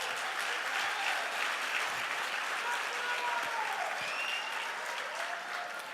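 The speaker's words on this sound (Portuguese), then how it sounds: "Então dá um aplauso a Jesus" Congregation applauding in a church gathering, a dense, steady wash of many hands clapping that holds at an even level for the whole stretch, with faint voices and cheers mixed in.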